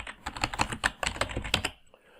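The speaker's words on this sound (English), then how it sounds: "So once we finish typing," Rapid, uneven clacking of computer keys, a burst of close typing that stops toward the end.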